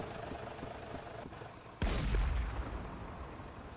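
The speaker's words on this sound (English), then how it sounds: "I'm gonna try and snipe him" A single sniper rifle shot cracks sharply in a Roblox military video game, followed by a short reverberating tail over faint background noise.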